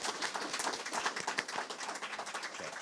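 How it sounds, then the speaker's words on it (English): Applause from an audience at an anthropology honors conference, a dense, continuous patter of many hands clapping at close-to-moderate distance. "So I'd like to give Jason one more round of applause."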